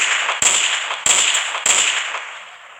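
Gunfire in the video game Counter-Strike: three sharp, loud shots spaced about half a second apart, each followed by a short decaying ring, with no talk.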